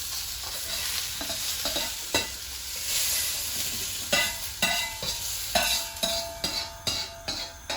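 Carrot and onion stir-fry in a wok on a domestic cooker, a continuous sizzle broken by repeated scrapes and clanks of the spatula that grow more rhythmic toward the end.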